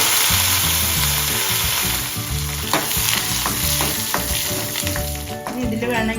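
Sliced shallots and curry leaves frying with fenugreek seeds in hot oil for a Malabar fish curry tempering, a continuous close sizzle with stirring scrapes and rhythmic music playing in the background.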